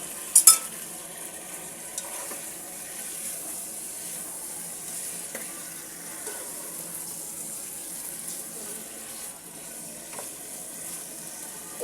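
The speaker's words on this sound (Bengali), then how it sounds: "মুরগির মাংসটাকে আমি একটু সুন্দর করে ভেজে নেব।" Chicken meat frying in a pan with spices such as coriander powder, giving a soft continuous sizzle with scattered stirring scrapes and a sharp clatter near the start.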